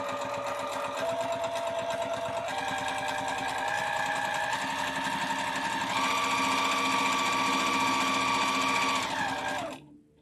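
Sewing machine stitching around the outline of a holiday stocking, a steady loud mechanical whir with rapid needle chatter that runs without a break for about ten seconds, then stops abruptly.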